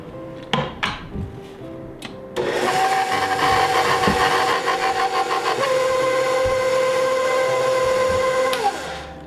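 An electric mixer whirs steadily through cookie dough for Christmas cookies as an egg and vanilla are beaten in, starting after a few clanks and running loud and continuous for several seconds before cutting off.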